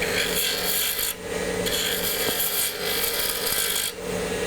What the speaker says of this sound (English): I like the round cutter because it helps me do curves better because I'm just touching the tip of it.